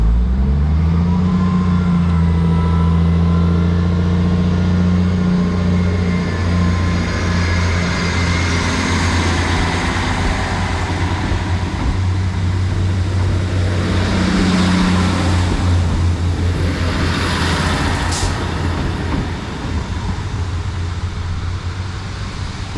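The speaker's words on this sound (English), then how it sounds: "going out now is the 1453 Northern service to Blackburn" A Northern diesel train pulling out of Kirkby station: loud, steady engine drone with a low rumble and rising tones as it accelerates away, close by and continuous throughout, no talking.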